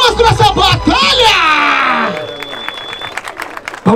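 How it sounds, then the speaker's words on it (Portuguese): Crowd at a rap battle final in Barueri cheering and applauding loudly, with whoops and shouting voices over clapping, tapering off near the end. "Palmas pra essa batalha!"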